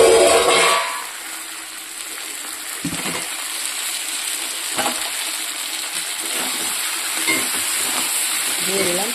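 Fried potatoes tumble into a pot of browning meat and are stirred through, a brief loud clatter followed by steady sizzling and scraping stir sounds.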